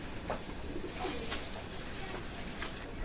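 Pakistani pigeons in a loft, giving soft repeated coos in a loose rhythm over steady background hiss, fairly close and low in level.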